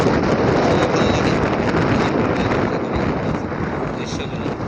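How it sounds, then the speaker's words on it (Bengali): Wind blowing by the Ichamati river at Sirajdikhan, Munshiganj, recorded from a bridge: a strong, steady roar buffeting the microphone, loud throughout and easing slightly toward the end. "সুন্দর বাতাস বইছে"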